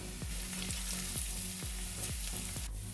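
Finely chopped onion and Kashmiri chili powder fry in an uruli for homemade pizza sauce, a steady sizzle broken by regular scraping strokes of a spoon against the pan, roughly twice a second.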